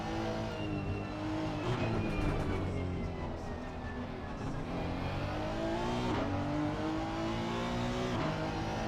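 Race cars lapping the Bathurst circuit in Assetto Corsa Competizione, several engines howling and revving close by, pitch climbing and dropping through gear changes as the cars pass in an unbroken roar.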